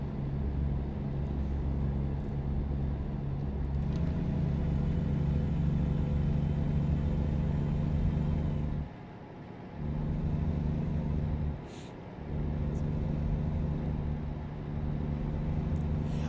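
A truck engine idles with a deep rumbling drone, revving and dipping briefly a few times, close and steady with no talking.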